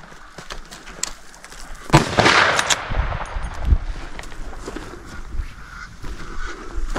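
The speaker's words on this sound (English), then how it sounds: "Shoot him again, shoot him again." Gunshots fired at a 13ft crocodile during an outdoor hunt, with one loud, close blast standing out among sharp cracks and commotion.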